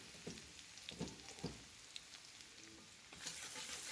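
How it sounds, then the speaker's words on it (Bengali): Crushed garlic fries in hot oil left over from frying potatoes, giving a steady faint sizzle with a few soft clinks of stirring near the start and a brighter burst of crackle toward the end. "আমি ওই তেলেতেই রসুন থেতো করে রাখা দিয়ে ভেজে নেব"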